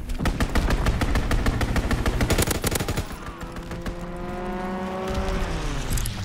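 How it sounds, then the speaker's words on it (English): A fighter plane strafes in COD WWII, rapid bursts of machine-gun fire crackling for a few seconds before giving way to a whining engine drone that lingers. "Fighter pilot inbound, strafing the target."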